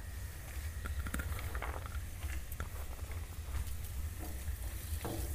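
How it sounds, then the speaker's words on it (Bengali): A spatula scrapes and stirs chopped carrots in a frying pan, soft irregular scraping and faint sizzling under a low steady hum, quiet and close with no talk. "গাজরটাকে কিছুক্ষণ নেড়ে নিয়েছি।"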